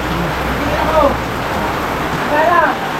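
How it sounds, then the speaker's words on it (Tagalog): Steady heavy rain patters continuously in a broad wash of noise, with a faint voice murmuring underneath. "So at the moment, malakas po ang ulan."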